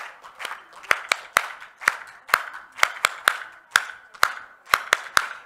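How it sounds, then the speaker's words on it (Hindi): People at the Hindon festival clap their hands in a rhythmic, fairly steady beat, sharp distinct claps repeating close by with a few lighter taps between. "इसीलिए तालियां बजवाई जाती है"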